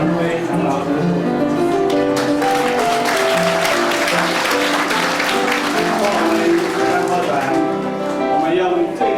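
Congregation applauding church elders and their wives at a Taiwanese Presbyterian church's 40th-anniversary service, steady dense clapping throughout with a voice speaking over it.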